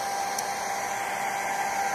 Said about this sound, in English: So I don't have the hairdryer blowing on them.